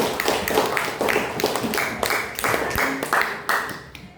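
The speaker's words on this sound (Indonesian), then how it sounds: "silakan kasih tepuk tangan aku" A small group, likely a class, claps in loose bursts, individual hand claps audible and close, with distinct uneven beats rather than a smooth wash.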